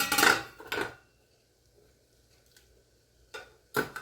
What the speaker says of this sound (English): I moved my tray out of the way.